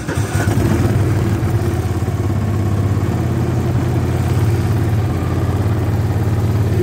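A Landmaster LM650 engine runs on choke just after a cold start at -7°, putting out a loud, steady, rough chugging idle close by for nearly seven seconds, with no voices.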